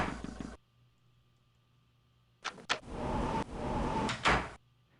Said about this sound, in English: we're going to go over here and enter through this door here